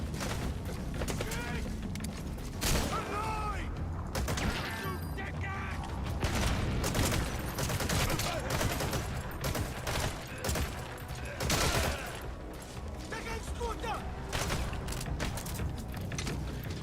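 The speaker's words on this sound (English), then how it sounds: "I hate these fucking mortars." Mortar rounds and dense battlefield fire in Metal Gear Solid V: The Phantom Pain form a constant, loud roar of overlapping blasts and crackling shots, with faint mechanical creaks and a brief voice mixed in.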